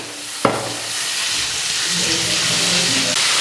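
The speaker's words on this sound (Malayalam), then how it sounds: "ഇനി ഇതിലേക്ക് നമുക്ക് സവോള സ്ലൈസ് ചെയ്ത് കട്ട് ചെയ്ത് ചേർത്ത് കൊടുക്കാം" Sliced onions hit hot oil in a pan while duck mappas is being cooked. A sharp splash-like onset is followed by a steady, loud sizzle that keeps going, with no talking.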